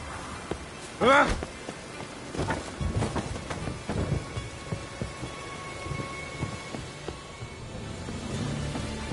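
Rain falls in a steady patter with rolls of thunder, while sharp knocks and a brief vocal sound break through early on, then a continuous wash of rainfall under faint rumbles.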